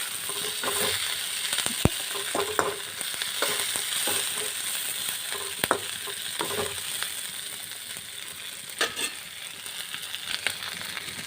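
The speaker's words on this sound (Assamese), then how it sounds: "ভালদৰে লৰাই লৈছোঁ।" Pieces of fish fry in a pan while being stirred, giving a steady close sizzle broken by scraping stir strokes and occasional sharp clinks, with no talking.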